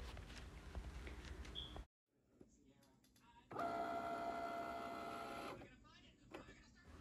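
Cricut cutting machine working through a transparent plastic sheet on its mat, a mechanical whirring and buzzing hum for a couple of seconds with carriage shuffling around it, heard close after a stretch of talking.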